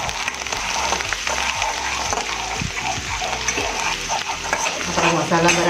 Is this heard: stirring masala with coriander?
yes